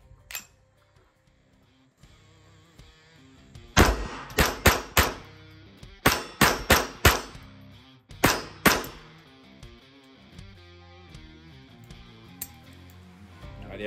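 A Grand Power K22 X-Trim pistol firing Mini-Mag high velocity .22 ammo at a range, sharp loud reports in quick clusters of three or four shots with brief pauses between strings.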